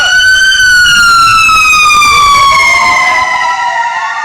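Loud, close fire truck siren wailing as trucks head to a fire, its pitch sweeping slowly downward over several seconds.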